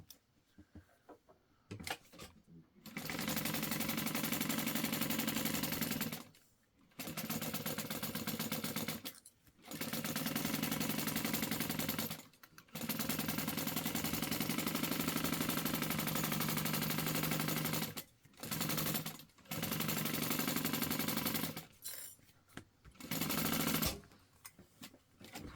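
A sewing machine basting fabric layers for a baby sling runs in long, steady, rapid mechanical stitching bursts, close and loud, with brief stops between runs.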